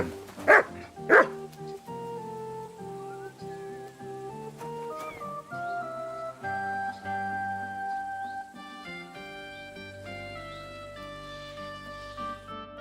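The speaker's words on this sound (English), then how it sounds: "You silly doggy." A dog in the video game Kingdom Come: Deliverance II gives two quick barks near the start, then a layered medieval musical score carries on alone.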